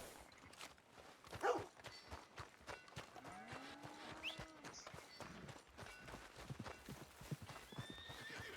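Hooves of a horse in Red Dead Redemption 2 clip-clop at a walk, a rhythmic series of close steps with a snort or whinny midway over soft ambient sounds.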